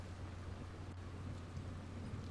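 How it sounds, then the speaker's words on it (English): Rain falls steadily in the Dying Light video game, a faint, even wash of noise with a low rumble under it and no talk or distinct events. "See, now it's raining and all that."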